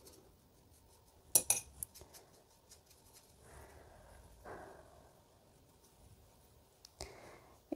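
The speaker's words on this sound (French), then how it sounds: "Je nettoie le pinceau, j'enlève de l'eau qui est en trop" Paintbrush rinsed in a water jar while painting in watercolour, sharp clinks and taps of the brush against the jar followed by soft swishing of water, quiet and close with long pauses.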